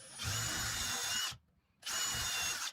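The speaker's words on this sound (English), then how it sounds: "So what I'm doing now is I am putting 2 screws into every one of these boards" Two bursts of a power drill whining as it drives countersunk screws into wooden raised planter bed boards, loud and close, separated by a short pause.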